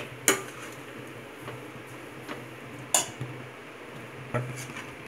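A spoon stirring poha upma in a pan, with a few sharp metallic clinks against the pan at irregular intervals over a soft, steady background hum.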